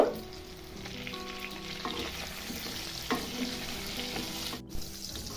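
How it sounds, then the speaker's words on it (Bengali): Pointed gourd frying in hot oil with turmeric and salt, a steady close sizzle with occasional stirring scrapes and clinks throughout. "এবার সামান্য হলুদ গুঁড়ো আর লবণ দিয়ে পটলগুলো ভেজে নিব"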